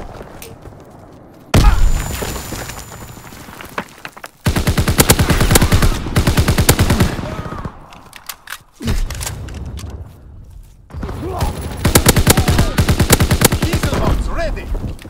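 Heavy World War II gunfire in Call of Duty: WWII, with loud bursts of rapid automatic fire and shots in several long stretches, separated by brief quieter gaps.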